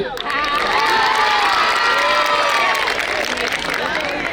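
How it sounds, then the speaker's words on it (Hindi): Children cheer and shout loudly at a school annual prize distribution, a dense, sustained crowd roar with scattered clapping that swells and then slowly eases over a few seconds. "तालियां नहीं बजाओगे?"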